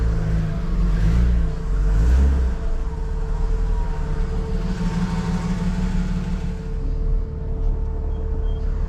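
A Datsun Z car's engine idles roughly on choke as it pulls out, a steady low drone holding close and loud throughout, with a brief rise in revs near the start.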